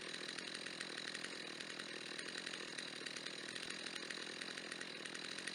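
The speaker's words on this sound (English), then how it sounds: "when I first started the chainsaw to cut down this tree" A chainsaw cutting down a tree, running steadily at high revs with a constant buzzing whine throughout, faint and distant, with no talking.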